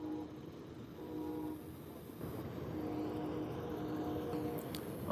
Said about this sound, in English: Sounds like a train's gonna cross the bridge here pretty soon.